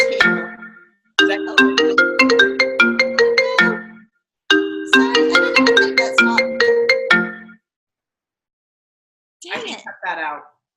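A phone ringtone plays a bright, repeating melodic pattern in two loud bursts with a gap between, followed by a short stretch of talking as it stops.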